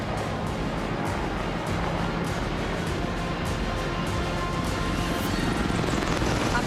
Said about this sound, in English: the Apache makes a swift directional change to avoid threats